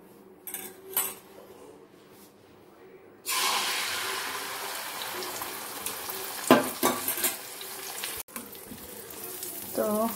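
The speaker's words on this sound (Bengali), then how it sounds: "আগে ডিমটাকে ভেজে নেব, তার উপরে তখন ব্রেডগুলো দেবো।" An egg frying in a pan, seasoned with kasuri methi, for egg toast; quiet utensil clinks give way to a continuous close hiss of frying, with scraping and a brief voice near the end.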